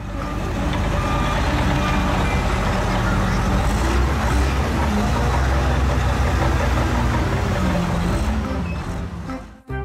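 Toy sand truck sounding steady electronic reversing beeps over a constant motor-like hum, loud and continuous throughout before cutting off at the very end.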